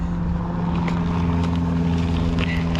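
Trek FX+ 2 Stagger e-bike ridden off-road as its motor assist engages: a steady, close electric-motor hum with a low droning rumble that holds unbroken throughout, mixed with faint wind and tyre noise and no talking.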